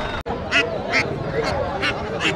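Ducks quack in short, evenly spaced bursts at a rural Bangladeshi poultry market selling ducks and chickens, close and clear over a low murmur of voices.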